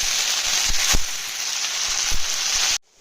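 Water spinach fries in oil with browned garlic as a bright continuous sizzle and occasional crackles and pops, then cuts off abruptly near the end.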